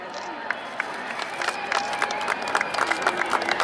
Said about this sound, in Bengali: জোরদার করতালি